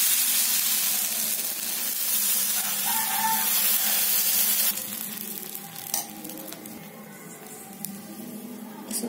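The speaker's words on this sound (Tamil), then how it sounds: "தோசை ஊத்திக்கலாம்." Okra adai batter poured onto a hot griddle gives off a loud, dense hissing sizzle that softens midway into a lighter crackle with a few faint clicks, no one speaking.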